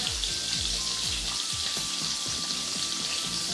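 Shrimp frying in a pan, a steady loud sizzle and crackle running throughout, close up with no talking.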